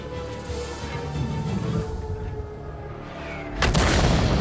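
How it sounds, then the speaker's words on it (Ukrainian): Artillery shell striking in World of Tanks, a dense rumbling blast bed of explosions and debris that swells into a louder, sharper impact burst near the end, with no voices. "Контрить і артилерія в цей момент. І, до речі, дістає оглушенням."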